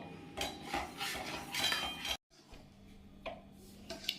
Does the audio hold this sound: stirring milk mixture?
yes